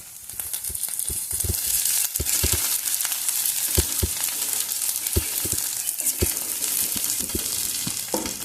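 Curry leaves hit hot oil with onion, green chili and ginger, giving a bright continuous sizzle with scattered sharp pops and crackles and occasional scraping of a spoon, close and fairly loud.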